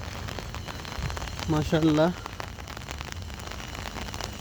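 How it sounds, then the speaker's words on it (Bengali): Rain falls in Saudi Arabia at the start of winter, a steady soft patter on surfaces throughout, while someone briefly speaks over it midway. "সৌদিতে বৃষ্টি হচ্ছে,"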